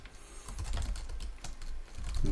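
Someone types a new application name on a computer keyboard, a quick run of close, crisp key clicks with uneven rhythm and no talking.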